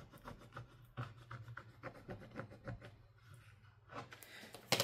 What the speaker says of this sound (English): Go ahead and scrape that down.